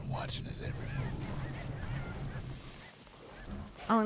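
A flock of birds honks goose-like in the video game Bastion, repeated cries rising over a dense, steady bed of game music and ambience, with a sharp burst near the end.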